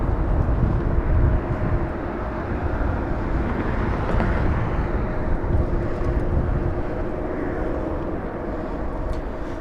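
A WestJet Boeing 737 NG arriving at Los Angeles International Airport roars as a broad, steady jet rumble with some wind buffeting, loud and continuous throughout, with no talk.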